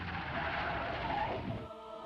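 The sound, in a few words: car braking and skidding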